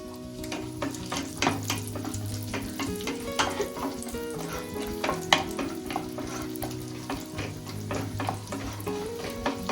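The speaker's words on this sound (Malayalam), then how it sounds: "രണ്ടും കൂടെ നമുക്ക് ഒന്ന് റെഡ് കളർ ആവുന്നവരെ ഒന്ന് ഫ്രൈ ചെയ്തെടുക്കാം" Raisins fry in a pan for rava laddu with a soft, continuous sizzle and repeated clicking and scraping of a spoon stirring at an uneven rhythm, with no one speaking.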